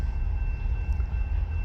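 A freight train carrying steel lumber frames rolls past behind bushes in a backyard, a steady low rumble with a faint high whine holding at even loudness throughout.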